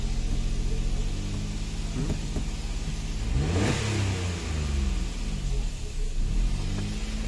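A car engine revs loudly and up close during a throttle position sensor adjustment, holding a steady rumble that swells into a higher rev near the middle before settling back.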